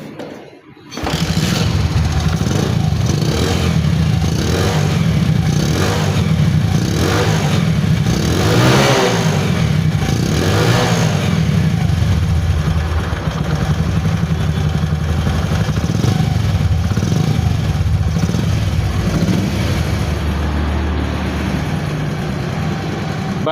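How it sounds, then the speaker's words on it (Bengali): A Bajaj CT 100 motorcycle engine starts and then idles loud and close, a steady low putter with a few brief revs throughout. "এখন বাইকটা আমি একটু স্টার্ট দিয়ে দেখাবো"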